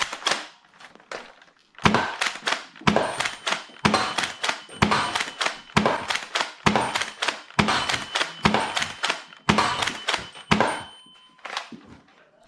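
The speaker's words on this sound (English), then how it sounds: "The Pathfinder is a breeze to fire." Nerf Rival Pathfinder pump-action springer blaster cycling and firing again and again, with sharp close snaps and clacks of the pump and shot in a steady rhythm, a dozen or so shots in a row with no talking.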